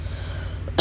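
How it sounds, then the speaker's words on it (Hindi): A single short, sharp cough from a man who is unwell comes close and loud right at the end, after a stretch of quiet room hum. "ये खांसी वगैरह थोड़ा है"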